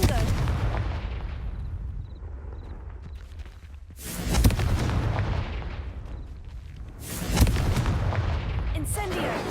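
Blasting spell explosions in a Harry Potter video game, two sharp booming bursts a few seconds apart, each followed by a rumbling decay, over low background sound and brief spoken words.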